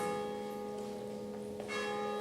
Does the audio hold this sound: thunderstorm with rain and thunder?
no